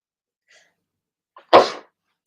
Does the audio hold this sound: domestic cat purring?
no